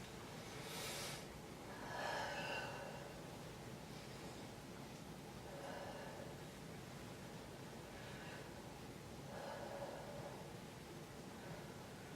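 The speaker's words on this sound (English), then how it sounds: "Go ahead and take some deep breaths in and out." A patient takes slow, deep breaths in and out during a medical exam: a few soft, airy breaths spaced several seconds apart, faint against steady background hiss, with no talking.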